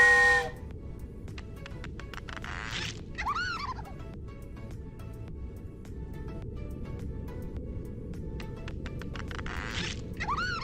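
A trade whistle blows in modded Minecraft, giving warbling, gobble-like whistle bursts that repeat a few times over a steady low hum of game ambience.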